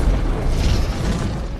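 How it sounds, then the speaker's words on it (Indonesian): A loud explosion in an action film as a rooftop is riddled with gunfire, a broad sustained boom that fills the whole moment without letup, no voices over it. "Ketika sudah di atas gedung, Darius diberondong ratusan peluru hingga terjadilah ledakan."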